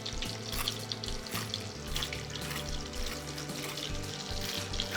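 Hot oil crackles and hisses around a golden fried beef schnitzel, a steady close sizzle with fine popping texture that continues evenly throughout without speech.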